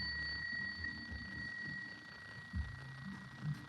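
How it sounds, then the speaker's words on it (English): A small bell rings during a tarot reading, its steady high tones sustaining clearly and fading slowly over quiet low background rumble, close and alone. "We're going to ring the bell."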